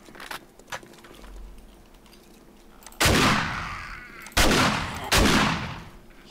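Three heavy shotgun blasts in the video game 7 Days to Die, loud and spaced about a second apart, each with a long, spreading tail. A few faint clicks come earlier, then a lull.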